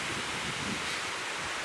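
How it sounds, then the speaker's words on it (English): Strong wind blowing outdoors, a loud continuous rushing roar buffeting the microphone, with no voices. "It's really getting windy here."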